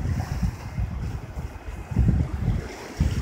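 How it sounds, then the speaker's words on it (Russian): High sea waves rolling onto the Ashkelon seashore, a low rumbling wash that swells and recedes in a couple of surges, heavy with wind buffeting the microphone. "сегодня как на грех, волны довольно высоки"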